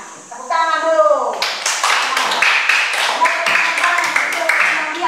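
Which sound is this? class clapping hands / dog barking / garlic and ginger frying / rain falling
class clapping hands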